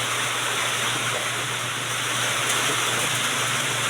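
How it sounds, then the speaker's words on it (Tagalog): Heavy rain drums steadily on a roof, a dense, even hiss with a low hum beneath it, continuous and fairly loud for the whole stretch with no voices. "Naririnig niya yung ulan eh."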